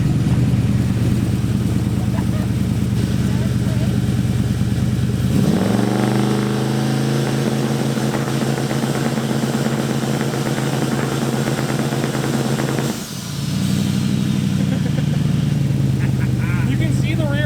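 A twin turbo Mustang on two-step launch control drones and crackles at a held rev limit, a loud steady engine tone that rises sharply and holds, dips briefly, then climbs again, with people talking over it.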